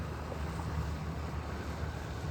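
Outdoors near sunset, wind buffets the microphone with a constant, dense, rumbling roar and no pauses.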